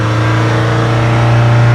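Nissan NP300 pickup engine held at full throttle, a loud, steady drone locked at a limited rev ceiling, close up and continuous with no talking, the ECU capping revs while a fault keeps the truck from pulling.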